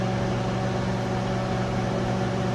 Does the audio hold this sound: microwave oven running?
yes